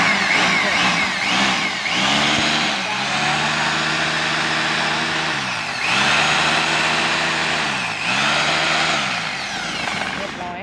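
A repaired rotary hammer drill runs loudly and steadily with harmonic whine, its pitch dipping and recovering several times as it loads and revs back up.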